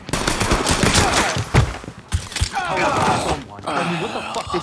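Gunfire in Mafia 3 crackles in rapid bursts and scattered shots beneath overlapping game dialogue and music, loud and busy throughout.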